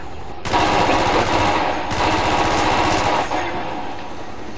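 Sustained automatic weapon fire in Call of Duty Black Ops multiplayer, a loud continuous burst of rapid shots running nearly the whole clip after a brief quiet start.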